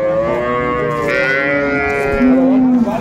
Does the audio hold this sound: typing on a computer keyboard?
no